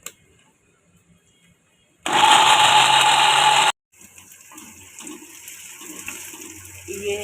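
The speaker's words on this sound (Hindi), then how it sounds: "जग में मैंने थोड़े चने डाले, इसको मैं पीस लूँगी।" A blender grinds black chickpeas in a jar in one loud, harsh burst of about two seconds, then stops. Quieter kitchen clatter and small knocks follow.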